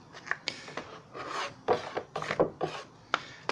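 Paint scraper rasping old paint off a surface outdoors in dry California weather, a run of short, rough scrapes in irregular strokes, close and moderately loud, with no talking.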